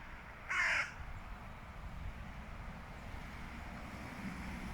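A single crow gives one loud, harsh caw early on, standing out clearly against a low, steady outdoor background hum on a cold winter day.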